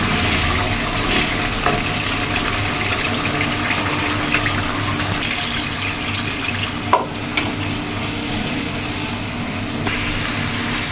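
Water poured into frying masala for a rui fish curry gives a loud, steady sizzle and bubbling hiss that runs unbroken, with a faint clink partway through and no talking.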